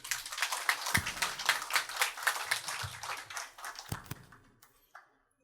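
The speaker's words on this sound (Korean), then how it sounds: "네, 박수 한번 쳐주시죠." A small group at a dental association candidate policy debate claps, uneven and scattered at first, then fading out into a few final claps and quiet.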